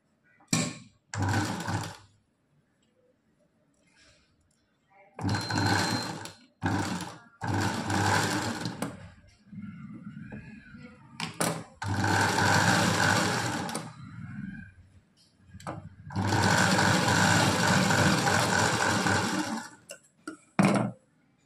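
A sewing machine runs in several loud, close bursts of fast rhythmic stitching along a Punjabi dress neckline, each lasting a few seconds and separated by quiet pauses.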